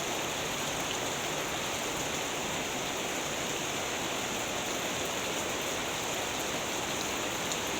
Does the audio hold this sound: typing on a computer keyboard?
no